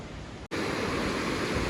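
A waterfall at Vellathooval in light drizzle gives a steady, loud broadband rush, with a brief dropout near the start before the roar resumes unchanged.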